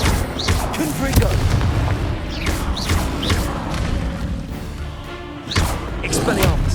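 A Confringo fire-blasting spell in Hogwarts Legacy on PS5, going off as a series of deep booming blasts with rumbling tails, loud and close among continuous game sound.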